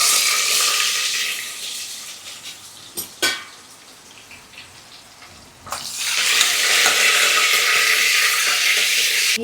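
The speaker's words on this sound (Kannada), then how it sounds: "ಎಣ್ಣೆ ಬಿಟ್ಟಿದ್ದೀನಿ, ಈಗ ಸಾಸಿವೆ ಹಾಕ್ತಾಯಿದ್ದೀನಿ." Mustard seeds crackle and splutter in hot oil for sambar, a dense, loud, hissing sputter that dips into quieter stirring noises midway before the spitting surges back strong.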